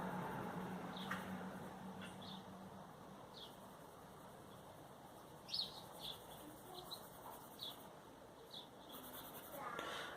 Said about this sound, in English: The birds are very talkative.